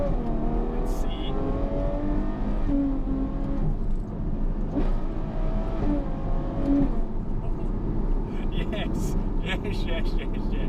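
A Ferrari 812 Superfast grand tourer driven in race mode, its engine droning steadily and building under revs throughout, with someone talking over it.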